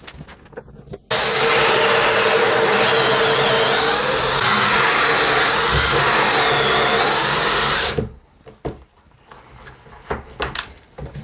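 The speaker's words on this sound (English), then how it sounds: "So let's get this drilled in, screwed in rather." A power drill drives screws into a shaker-style cabinet door in one loud, steady whir of about seven seconds, then stops. Scattered close handling knocks come before and after it.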